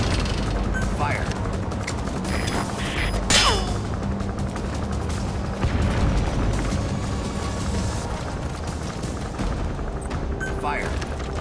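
Several missile launches and impacts against a target in Metal Gear Solid 5: The Phantom Pain ring out as loud booms and whooshing streaks over steady gunfire-like rumble, spaced a few seconds apart, with a voice faintly underneath.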